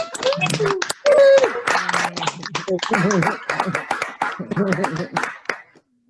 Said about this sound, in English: give a nice round of applause, some cheers to all of the JLF grads